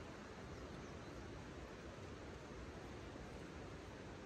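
Steady broadband rush of water flowing close by outdoors along a wooded animal trail, a continuous even wash with no speech over it.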